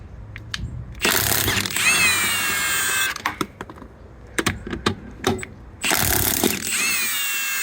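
A Milwaukee M18 cordless impact wrench loosening bolts of about 140 to 150 foot-pounds rattles loudly in two long bursts, separated by a pause filled with clicks and small clunks of handling.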